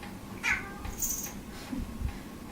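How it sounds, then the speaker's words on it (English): A cat meows a few times in a quiet indoor room during a basic yoga session, with short, fairly soft, close cries spaced across a low background hum. "Oh, cat."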